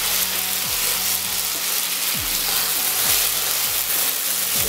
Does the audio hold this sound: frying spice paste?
yes